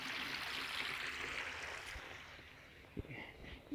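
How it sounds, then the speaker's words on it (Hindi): A stream of dirty water flows steadily past an old building, a continuous rushing wash that eases slightly, with a few soft knocks near the end. "ये लेंडा पानी है, कहीं से आ रहा है ये पानी"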